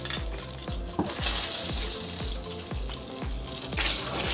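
Butter, oil and a large garlic clove sizzling in a pan, a steady close hiss with a rapid, regular run of soft scraping strokes throughout.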